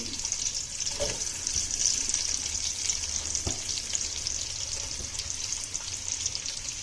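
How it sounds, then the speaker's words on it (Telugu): Sliced onions and green chillies fry in a pan with a steady close sizzle, broken by a few faint stirring scrapes and no voices. "వేసుకొని మంచిగా ఫ్రై చేసుకోవాలి లైట్ బ్రౌన్ వచ్చేంత వరకు"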